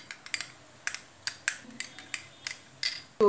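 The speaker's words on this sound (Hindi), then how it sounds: "और अभी हम करेंगे इसको मिक्स। अच्छे से मिक्स करेंगे।" Egg hair mask mixture is stirred in a bowl, producing close, regular tapping clicks of a utensil against the bowl, about a dozen strokes, ending in a louder scrape.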